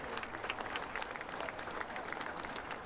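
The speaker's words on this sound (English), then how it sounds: "A round of applause from fellow players and the crowd." Players and spectators applaud at a 2021 Premier Ultimate League women's ultimate frisbee game between Portland Rising and Revolution, a continuous, fairly distant patter of clapping from the crowd.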